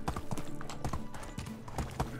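Horse hooves clip-clop steadily in the video game Medieval Dynasty while riding across hilly countryside, a continuous run of close, even hoof strikes throughout.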